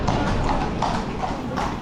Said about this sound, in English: Ooh, horsies. Clip, clop, clip, clop, clip, clop.